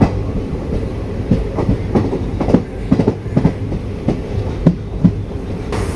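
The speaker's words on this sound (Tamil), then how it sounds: "இப்போ நம்ம லூப் எடுத்து இந்த சைட் பிளாட்ஃபார்முக்குள்ளே அரைவாகிட்டு இருக்கோம்." Passenger train on the Shoranur to Coimbatore line pulling into a side-platform loop at a small Kerala station, with loud, steady rumbling and repeated clickety-clack wheel beats over rail joints and no speech.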